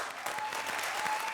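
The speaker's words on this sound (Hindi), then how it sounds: "जोरदार तालियां" Studio audience applause on a Hindi comedy show set, a dense, steady wash of clapping that fills the whole moment, fairly loud and continuous with no voices over it.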